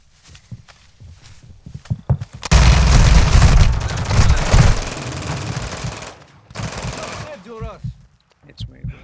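Heavy gunfire in a Call of Duty DMZ firefight on Ashika Island: dense, loud bursts of automatic shots erupt after a few quiet seconds, with a second volley later and voices calling out over the action.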